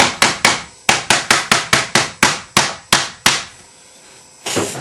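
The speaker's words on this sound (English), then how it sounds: "I just use a little wooden mallet, a piece of leather." A small wooden mallet pounds on a piece of leather while a pancake holster is being made. About a dozen sharp, close knocks land in an uneven quick rhythm, then pause before a softer scrape.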